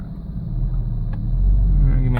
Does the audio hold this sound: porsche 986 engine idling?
yes